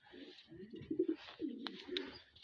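Soft, low cooing of a pigeon, a few rolling coos close by and fairly quiet, with a couple of faint high clicks.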